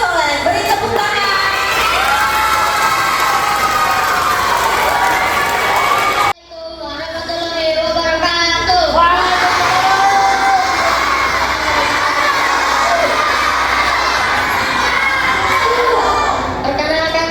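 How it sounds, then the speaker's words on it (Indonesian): A crowd of school children cheers and shouts loudly at an Indonesian Independence Day proclamation-reading contest. The noise is continuous, dips for a moment, then swells again into sustained excited cheering. "Beri tepuk tangan."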